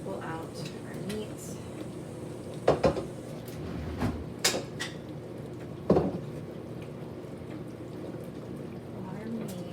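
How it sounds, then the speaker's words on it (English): Instant Pot carnitas pulled out of the pot onto a pan, a few clanks and scrapes of utensils and metal with some wet liquid sounds, under a person talking. "Pull out our meat and put it on a pan."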